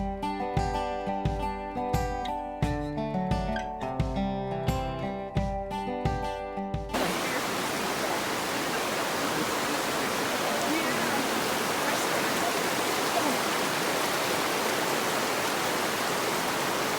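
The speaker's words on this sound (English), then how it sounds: "There's a river." A river flowing in the Smoky Mountains gives a steady, full rushing wash that fills the second half, following several seconds of rhythmic music with pulsing notes.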